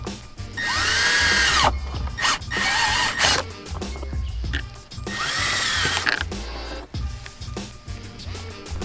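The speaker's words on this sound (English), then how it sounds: "we're gonna use a nice step bit to drill a hole in the back of the dust cover" A power drill whines in repeated bursts as a step bit bores through the headlight dust cover of a 2018 Toyota 4Runner Limited, with grinding pauses between runs.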